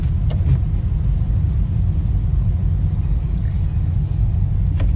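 A car engine in its lowest gear drones in a low, steady rumble with no talking, its constant hum sitting heavily in the bass.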